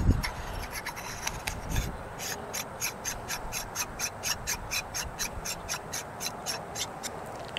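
A T-ring adapter is fitted onto a telescope eyepiece adapter for connecting a DSLR camera, producing a quiet, evenly spaced series of scraping, ratcheting rasps after an initial bump or two.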